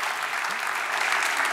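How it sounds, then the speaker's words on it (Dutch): Steady applause from an audience at a Dutch late-night tech talk show, dense and even throughout, heard fairly close with no voices on top. "applaus voor Arie van Bellen"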